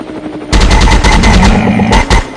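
Sustained automatic gunfire in a video game, loud and close, a dense burst of rapid rounds running almost without break, with a short gap near the end before it resumes.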